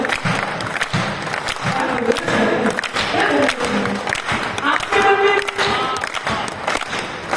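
Audience applause at a poetry recital during a kavi sammelan at a Jain festival in Ashok Nagar, a steady wash of clapping mixed with crowd noise and a speaking voice over it.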